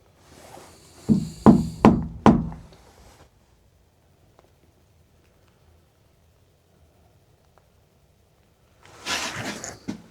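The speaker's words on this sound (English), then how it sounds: "I'm going to knock on this door, Spirit, and I want you to knock back, please." Knocking on a door inside a chapel: four quick raps in a cluster near the start, then a long quiet stretch before a burst of rustling noise at the end.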